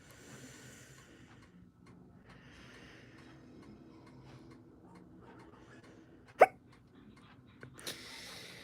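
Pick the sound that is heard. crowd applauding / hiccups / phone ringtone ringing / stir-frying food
hiccups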